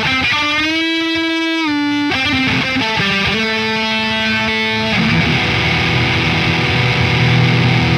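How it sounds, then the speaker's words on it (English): Distorted electric guitar through a Neural DSP amp plugin preset with reverb, sustained chords and single notes ringing out and decaying into a spacious reverb tail, played alone. "there's a reverb in the background"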